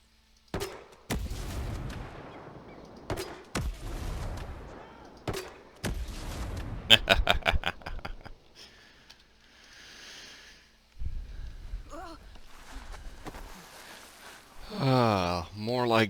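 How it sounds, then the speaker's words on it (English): A grenade launcher fires repeatedly in the Ghost Recon Breakpoint game, several sharp booming shots at uneven intervals followed by rumbling explosions and crackling game effects. "Let's make use of the grenade launcher here real quick."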